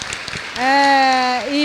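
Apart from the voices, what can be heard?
audience applause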